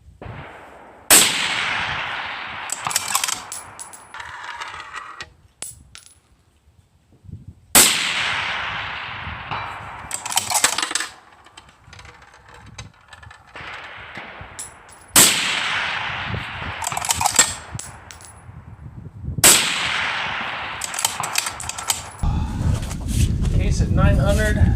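Rifle shots at a long-range shooting session, recorded with a Garmin and Longshot cameras, ring out as four loud, sharp cracks spaced several seconds apart, each with a decaying echo, with people talking in between.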